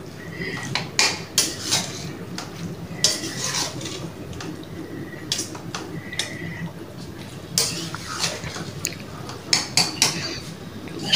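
Chicken tikka karahi being stirred in a pan, with repeated metallic clinks and scrapes of a spoon against the cookware in an irregular rhythm, loud and close, with no voices.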